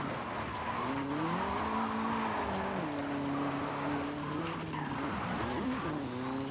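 A JDM car in Forza Horizon 5 drifts with a steady engine drone that bends in pitch through the slide, while a high tire squeal runs in stretches above it.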